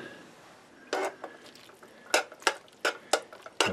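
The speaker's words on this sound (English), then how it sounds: "And I will stir this." A spoon stirs a pot of chunky beef vegetable soup, giving sharp irregular metallic scrapes and clinks spaced about half a second apart, close and otherwise quiet.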